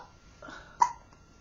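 A young infant about four weeks old gives a single soft, brief hiccup, close and quiet, alone in an otherwise calm room.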